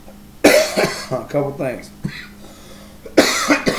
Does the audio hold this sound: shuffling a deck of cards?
no